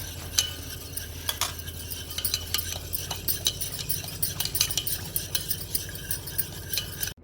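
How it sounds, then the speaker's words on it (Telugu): Cake batter of milk and vanilla essence stirred briskly in a bowl, a spoon clinking and scraping in a fast steady rhythm, close and fairly quiet. "ఈ మిక్చర్ కూడా బాగా కలుపుకోవాలి"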